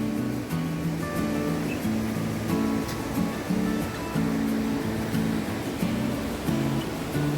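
The Jaldhaka river at Jhalong rushes beneath a bridge on a rainy evening, making a constant broad roar of flowing water. A low tonal hum runs through it and no one speaks.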